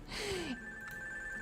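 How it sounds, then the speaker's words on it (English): A phone rings briefly indoors with a sharp, bright electronic tone over a quiet room, accompanied by a falling gasp-like vocal sound; a faint steady tone lingers afterward. "Oh god, I'm getting a phone."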